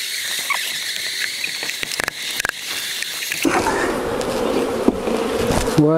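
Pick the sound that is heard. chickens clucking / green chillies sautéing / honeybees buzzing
honeybees buzzing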